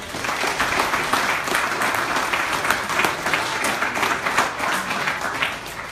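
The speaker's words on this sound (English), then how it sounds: "Give them a round of applause." A hall audience at a hospital foundation raffle bursts into steady, sustained applause, dense loud clapping that holds evenly throughout without a break.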